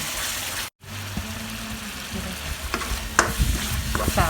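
Chicken in red curry paste with vegetables is stir-fried in a pan, a continuous loud sizzle with scraping stirs and a few sharper clinks of the utensil.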